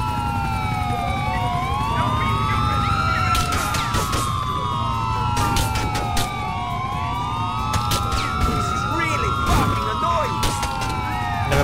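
Repeated rising and falling wails of a police siren in GTA IV modded with San Andreas cars, loud and close, cycling steadily over low traffic rumble, with sharp clicks and bursts scattered throughout.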